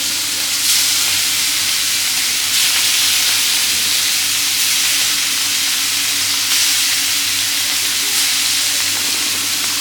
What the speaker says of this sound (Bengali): এই চপের মধ্যে চিংড়ি মাছগুলো দিব, এজন্য হালকা করে ভেজে নিই আগে।